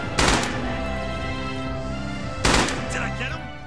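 A BAR automatic rifle fires in the game Red Orchestra 2, with two loud, sharp bursts about two seconds apart, each followed by a ringing, echoing decay.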